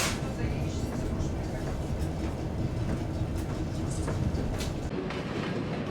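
A partly recomposed Trans-Siberian train rolls along the rails in a steady rumble with faint clicks and squeals, heard from inside as voices talk over it.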